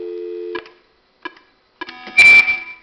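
A Nortel Norstar business phone sounds its voice call tone: short tonal signal bursts with clean harmonic lines, followed by a louder, denser burst near the end, heard alone with no talking.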